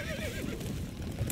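A horse neighs in the Stronghold Crusader strategy game, a single close, bright whinny running through the short clip, with a sharp game effect at the very end.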